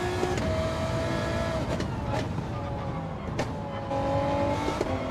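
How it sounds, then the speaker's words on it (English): A race car in a racing video game charges down the straight, its engine droning steadily and loudly with brief high whines of gear changes. "There's a car charging down the straight behind me."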